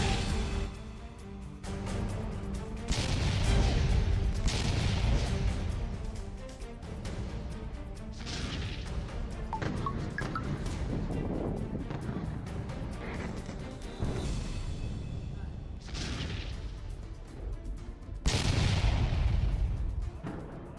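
Heavy explosions and artillery booms from war in the Middle East roll through repeatedly, deep and loud, separated by rumbling aftershocks and crackling noise.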